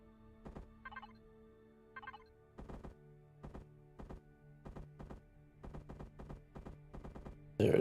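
Turrets fire in Empyrion Galactic Survival, producing repeated heavy thumping bursts in an irregular volley over a steady low hum, fairly distant and moderate in level, ending in a louder burst.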